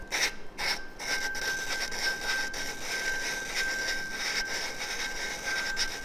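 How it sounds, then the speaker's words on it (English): Steady gritty rasping of valve lapping on a 2007 RMZ450 engine valve, a suction cup tool spun back and forth against the seat in quick repeated strokes, close and continuous with a faint high whine underneath. "It's going to start off very gritty, and then it's going to get less gritty."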